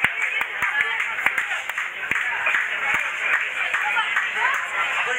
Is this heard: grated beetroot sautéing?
no